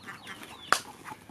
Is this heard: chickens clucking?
yes